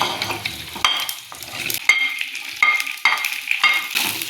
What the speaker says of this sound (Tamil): நம்ம வெண்டைக்காயை வதக்குவோம் சட்டி காயட்டும் ரெண்டு கரண்டி தேங்காய் ஊற்றிக்குவோம் வெண்டைக்காயை வதக்கிவோம்